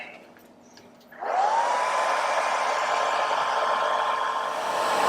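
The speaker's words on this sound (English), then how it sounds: "And grab our hair dryer." A hair dryer switches on after about a second and blows steadily with a loud, continuous whooshing hum.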